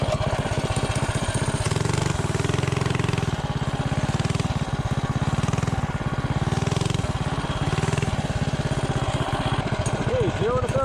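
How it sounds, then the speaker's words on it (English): A mini bike engine running on VP 110 race gas, revving hard and steadily at close range for the whole stretch with a buzzy, rapid-firing drone and slight pitch rises as it accelerates from standstill toward 30. "So now I'll do a 0 to 30 and we'll see what it does"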